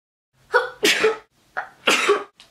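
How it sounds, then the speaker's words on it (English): Two loud, close sneezes in a row, each with a sharp intake of breath before the explosive burst, recorded indoors with silence between them. "I think I just sneezed up a lung."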